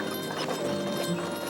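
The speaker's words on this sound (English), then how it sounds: "Their young team of large draft horses is generally driven by their 15-year-old daughter, Jennifer." Hooves of a young team of large draft horses clip-clop steadily at a walk, soft and somewhat distant beneath a continuous wash of outdoor noise.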